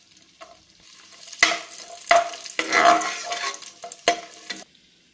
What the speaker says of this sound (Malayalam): ആദ്യം കാഷ്യൂ നട്ട് ഇട്ട് മൊരിച്ചെടുക്കണം